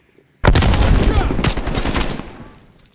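Sustained automatic gunfire in the Call of Duty: Black Ops Cold War video game, a loud dense burst of rapid shots that fades out toward the end.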